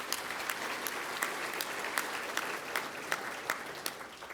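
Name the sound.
conference audience applause for the patrons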